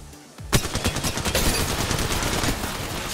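Gunfire in the mobile battle royale game Apex Legends Mobile. After a brief quiet moment, a sudden burst of rapid automatic fire breaks out and keeps going loud and dense.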